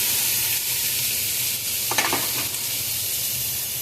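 Onions frying in butter and a teaspoon of coconut oil on a stove in an RV kitchen give off a steady, close sizzle, with a few brief scraping stirs near the middle.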